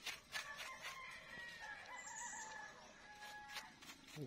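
Birds outdoors, including a rooster crowing and fowl clucking, are heard faintly at a distance over a quiet rural background.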